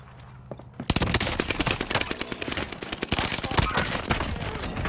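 Automatic gunfire in the shooter game Call of Duty Warzone, a dense, rapid rattle of shots that bursts in after a quiet moment and keeps going loud and close to the end.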